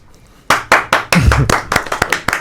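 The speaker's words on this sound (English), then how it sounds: "So I actually clap for myself." A run of sharp hand claps, about a dozen loud close slaps in an uneven rhythm, some spaced out and others quick, played alone with no talking.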